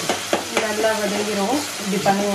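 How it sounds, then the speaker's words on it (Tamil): Tomatoes sautéing in a pan for village-style fish gravy give a steady close sizzle with stirring scrapes, while a voice talks over it throughout. "இந்த மாதிரி கொஞ்சம் நேரத்துக்கு வதக்கிக்கிட்டே இருக்கணும்"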